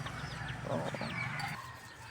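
Chickens, including hens with chicks, cluck and murmur close by in a brief burst, with a few higher bird calls mixed into the quiet background.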